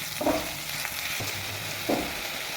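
Mixed vegetables frying in a pan, a steady close sizzle with a couple of louder stirring scrapes of the spoon against the pan, no one talking.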